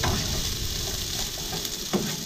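Onion sautéing in a pan for a corned beef kaldereta, a continuous close sizzle with faint stirring scrapes and one small clack near the end.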